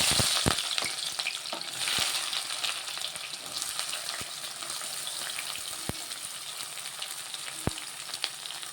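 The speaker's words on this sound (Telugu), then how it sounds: "నేను ఆనియన్ వేసుకుంటాను" Chopped onions frying in hot oil for a chicken curry, giving a dense continuous sizzle close up, punctuated by occasional sharp clicks of a spoon against the pan.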